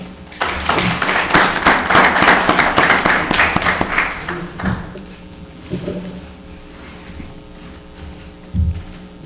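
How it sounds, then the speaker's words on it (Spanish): Audience applause honors a newly installed honorary member of Ecuador's National Academy of History, a dense burst of clapping filling the room for about four seconds before fading into low hall hum with a few scattered claps. "Pido para él un aplauso"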